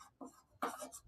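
Chalk or marker scratches across a board while equations are solved in a Class 10 maths lesson: a few short, soft strokes in quick succession, close and faint, with no talking.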